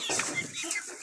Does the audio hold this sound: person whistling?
no